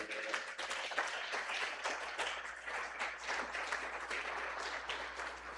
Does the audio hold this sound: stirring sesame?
no